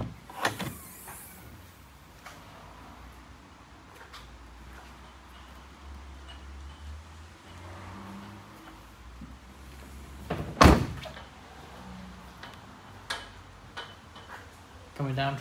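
Boot of a Nissan Leaf Acenta electric hatchback being opened, a latch click and a sharp thunk partway through, then lighter clicks and handling knocks. Someone talks quietly throughout.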